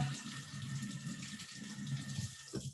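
An apple is rinsed under a running kitchen tap, with a steady, fairly soft stream of water splashing for a couple of seconds and nobody speaking.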